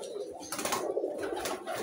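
A pigeon chick kept in a cage makes soft cooing and chirping calls in short bursts, close by and fairly clear.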